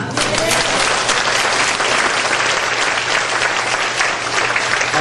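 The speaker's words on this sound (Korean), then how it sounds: "우리 다 같이 자천하고 자축하는 박수를 치므로" Sustained applause from a large audience at a company's tenth-anniversary celebration, dense steady clapping filling the room evenly from start to finish with no pauses.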